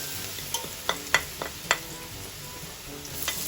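Garlic frying in a pan, with a steady soft sizzle and a few sharp clicks of utensil stirring against the pan; no voices.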